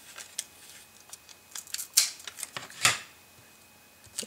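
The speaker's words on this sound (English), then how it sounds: "I'm going to get our faux washi tape here, and I'm just going to peel it off" Faux washi tape is pulled off its roll in a string of short, sharp, close crackling rips and ticks, fairly quiet, with two louder tears standing out in the middle.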